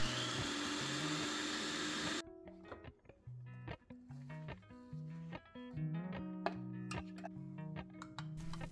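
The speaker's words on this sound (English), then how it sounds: "Grind up about 34 Oreo cookies in a blender or food processor." A blender or food processor grinds about 34 Oreo cookies into crumbs for a no-bake cheesecake crust, starting with a loud, steady whir, then dropping into choppy bursts and rattling pulses as the machine stops and restarts.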